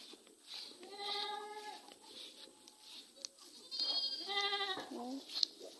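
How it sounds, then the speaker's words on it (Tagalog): Goats bleat in a backyard, several wavering calls from fairly close by, spread across the stretch with short pauses between them, over a faint outdoor background and no clear talk. "Po yung kambing namin."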